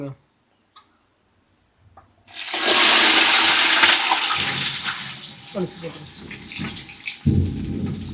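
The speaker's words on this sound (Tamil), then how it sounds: "ஐயோ என்ன இப்படி ஒரு இடி பயங்கரமாக அடிக்குது." Loud thunder crashes in after a quiet stretch, a sustained roaring rumble with rain-like hiss that slowly fades, followed by a couple of sharp bumps, heard during a thunderstorm.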